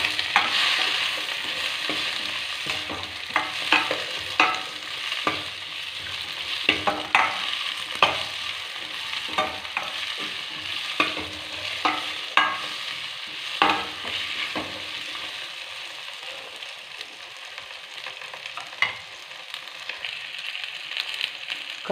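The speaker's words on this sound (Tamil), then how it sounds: "காய்கறிலாம் இது மாதிரி நம்ம எண்ணெயில் வதக்கி எடுத்துக்கிட்டோம்" Avarakkai beans and drumstick pieces are sautéed in oil, with a faint sizzle beneath repeated scraping stirs of a spoon against the pan. The stirring runs unevenly for about twenty seconds, and no one speaks.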